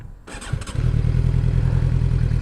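A motorcycle engine fires up abruptly after a moment of quiet and settles into a loud, steady low idle rumble close by, with no talk.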